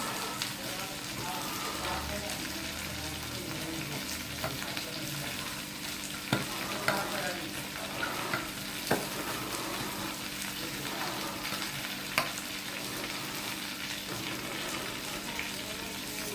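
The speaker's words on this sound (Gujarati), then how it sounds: "સાથે સાથે આપણે શાકને પણ થોડું હલાવી દઈશું, જેથી શાક ચોંટી ના જાય." Okra and potato curry frying in oil in a pan while being stirred, a steady soft sizzle with occasional scraping clicks of the spoon, continuous and close.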